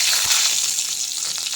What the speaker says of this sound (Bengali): এবার কড়াতে ওই তেলে আমি টুকরো করা আলু দিয়ে দেবো